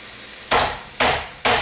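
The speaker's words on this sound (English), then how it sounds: "we're going to pound this out to get it a little flatter" Three heavy, evenly spaced thuds of a mallet pounding a pork tenderloin flat on a board, each strike loud and close, with no talk.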